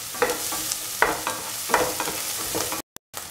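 Onions fry in a pan, giving a soft steady sizzle with a few stirring scrapes. It is fairly faint and ends in a brief silence.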